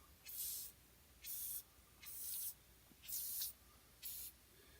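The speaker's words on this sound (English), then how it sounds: "spray this heavily into all the bolts." Five short bursts of aerosol spray hiss onto brake bolts, each lasting about half a second, separated by brief pauses against a quiet background.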